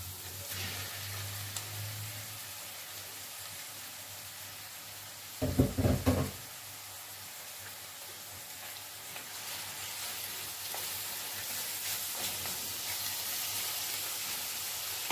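Garlic, ginger and meat fry in a pot with a soft, constant sizzle, broken partway through by a brief clatter, likely from stirring.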